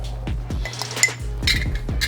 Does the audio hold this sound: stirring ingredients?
yes